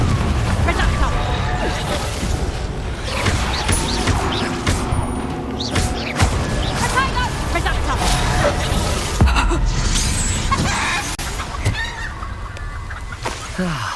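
Spell-casting combat in the video game Hogwarts Legacy, with loud booming Confringo explosions and crashes mixed with creature squawks, under continuous game sound and voices.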